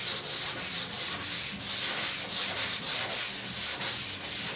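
Primer/surfacer being block sanded on the rusty roof of a 1969 Chevrolet C10, a close, steady rhythmic scraping with regular back-and-forth strokes of roughly three per second, heard on its own.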